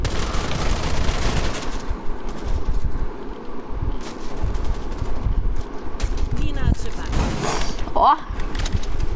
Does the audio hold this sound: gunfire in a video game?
yes